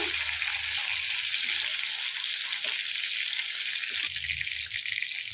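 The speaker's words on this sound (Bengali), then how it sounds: "আর এদিকে আমার মাছও ভাজা হচ্ছে" Pabda fish sizzles and fries in hot oil in a home kitchen, a steady, dense crackling hiss running without a break, with faint stirring sounds underneath and no voices.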